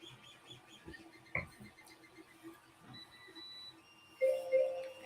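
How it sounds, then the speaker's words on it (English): An electronic timer goes off near the end, sounding a short pair of bright, steady beeps over quiet room noise with faint background clatter. "there's my timer."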